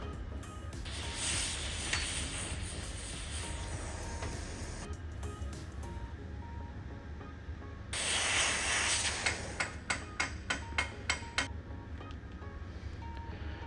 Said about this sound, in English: Now just going out with the chisel again.